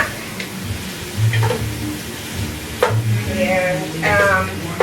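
Bacon fries in a pan for a Creole gumbo, giving off a soft continuous sizzle with occasional scraping and stirring knocks and some clinks, close and moderately loud.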